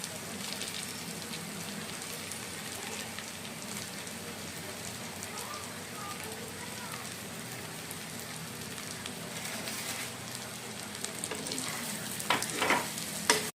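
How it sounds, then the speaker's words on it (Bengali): Pre-fried potato and eggplant pieces go into masala already glistening with released oil for a thin tilapia curry, raising a steady, close sizzle with stirring scrapes throughout and a few sharper clatters near the end. "আর এখন এর মধ্যে দিয়ে নেব আগে থেকে ভেজে রাখা আলু আর বেগুনগুলো।"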